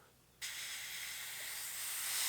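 An airbrush spraying Mission Models paint onto a 1/35 Tamiya Sherman tank model bursts into a steady, close hiss after a quiet moment and keeps going without pause.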